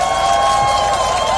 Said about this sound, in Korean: 우리 함은경 후보에게 한번 뜨거운 박수 한번 다시 부탁드립니다.